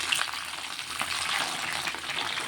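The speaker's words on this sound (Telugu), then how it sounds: "ఇది కొంచెం లో ఆయిల్లో ఫ్రై అవ్వాలండి వంకాయలన్నీ" Eggplant pieces fry in a little oil, giving a steady, close, soft sizzle and crackle that continues throughout with no voices.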